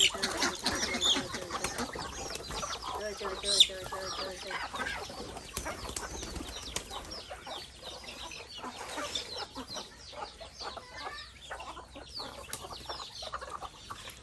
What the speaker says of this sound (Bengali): দেখেন, কি পরিমাণ হাঁস মুরগি।